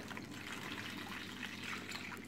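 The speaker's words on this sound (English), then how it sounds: "add our water to our container" Water streams steadily into a small container for a toy water-bath activity, a continuous close trickling gush without pauses and with no one speaking.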